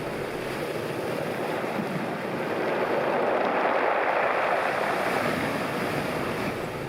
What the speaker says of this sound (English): Listen to the rattle of the pebbles as the water recedes.